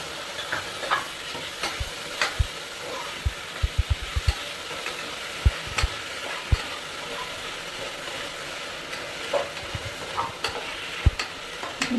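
Chopped tomatoes and vegetables sautéing in a pan for veg kuruma, a soft continuous sizzle punctuated by frequent sharp spoon taps and scrapes against the vessel at an irregular rhythm, close by, without talking.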